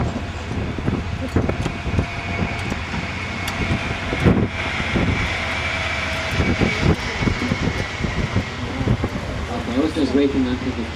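A train rumbles past along the Rhine river gorge, heard from a river cruise ship as a steady, loud, broadband roar lasting the whole stretch, with voices talking underneath.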